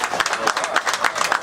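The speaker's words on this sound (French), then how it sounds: "avec vos applaudissements s'il vous plaît." A crowd applauds at a cycling award ceremony held before a stage start. The clapping is a brief, dense burst.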